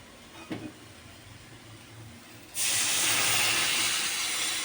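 Warm water pours into a simmering curry and sets off a sudden loud, broad hiss that holds steady for about two seconds after a quieter stretch of faint cooking noise.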